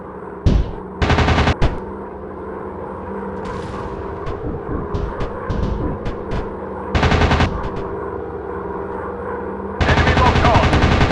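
Bursts of machine gun fire in a warplane combat video game, several loud rapid-fire volleys separated by gaps filled with engine drone and scattered game sound effects.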